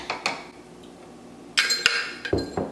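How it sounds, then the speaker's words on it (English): Ground coffee scooped into a Ninja Specialty Coffee Maker, a few light clinks and scraping taps of a scoop against plastic, close and brief, with a short burst of rustling in the middle. "I'm gonna go ahead and add the coffee"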